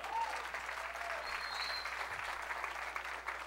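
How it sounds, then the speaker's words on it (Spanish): A church congregation applauds in a steady, sustained wash of clapping that holds evenly throughout, fairly distant and moderate in level, with faint background tones and no clear talk over it. "un aplauso al Señor"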